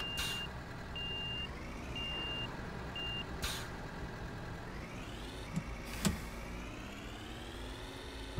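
Repeated electronic reversing beeps from a garbage truck in the city-services game Cityconomy, steady pulses over a constant engine hum, with a couple of short clunks near the end.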